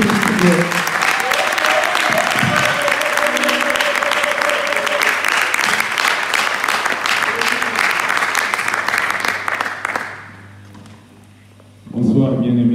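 A church congregation applauds and cheers loudly at a special worship service, with sustained dense clapping and crowd noise that runs unbroken, then fades out abruptly near the end before voices return.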